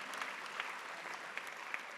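A political rally audience claps for Laurent in sustained, dense applause with scattered sharper claps, steady throughout.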